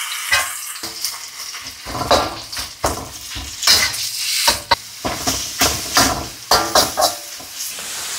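Ground meat frying in oil over onions and chili, with a steady hiss of sizzle broken by repeated scrapes and clinks of a spatula stirring against the pan, close and fairly loud.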